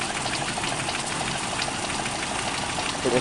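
A 1991 Toyota Kijang engine idles steadily with the air conditioning running, a smooth, even hum and faint rhythmic ticking, no talking over it.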